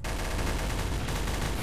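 Dense, continuous burst of gunfire in the game Garry's Mod, Trouble in Terrorist Town mode, loud and close with rapid overlapping shots and no talk.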